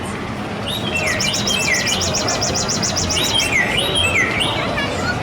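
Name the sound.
recorded birds chirping at exhibit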